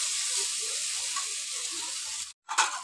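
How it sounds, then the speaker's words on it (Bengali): Boiled taro (mukhi) fries in a pan with a steady, close sizzle and hiss that cuts out briefly near the end, then returns with a sharper burst. "মুখিগুলো সিদ্ধ করে ভেজে নিচ্ছি"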